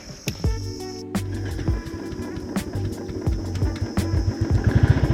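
A Royal Enfield Thunderbird 350 motorcycle engine thumping at very low speed, a steady loud rhythmic beat with sharp clicks and a persistent high whine, close to the listener with no talk.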